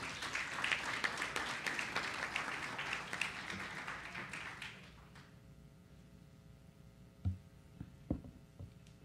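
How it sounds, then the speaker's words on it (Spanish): A school hall audience at a national ceremony honouring outstanding teachers gives a warm, dense round of applause that gradually fades out, leaving a few scattered claps and taps in a quieter room. "Lo recibimos con un fuerte aplauso"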